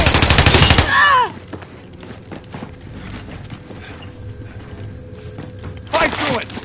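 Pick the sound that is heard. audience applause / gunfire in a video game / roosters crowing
gunfire in a video game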